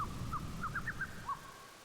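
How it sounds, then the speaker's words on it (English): A bird calls in the Xenogears video game, a run of short, clear, repeated chirps in a quick rhythm, fairly faint over a low background. "I hear the bird. I heard it."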